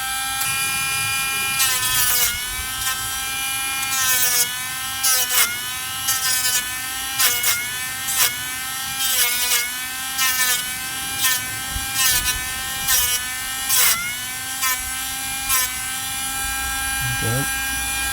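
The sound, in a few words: Dremel rotary tool grinding curbed Tesla Model 3 wheel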